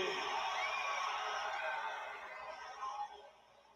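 Arena crowd in Arizona cheering for wrestler Cody at a WWE SmackDown show, a broad sustained roar of many voices that fades gradually toward the end.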